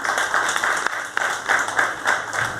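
An audience applauds at a Haitian culture ministry tribute to the artist Wesley Louissaint, with steady sustained clapping throughout and a few sharper individual claps standing out.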